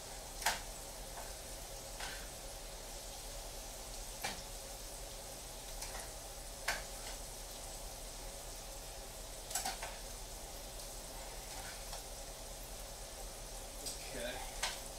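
Onions fry crisp in butter in a pan for a steady, low sizzle, broken by occasional sharp clicks and taps from utensils.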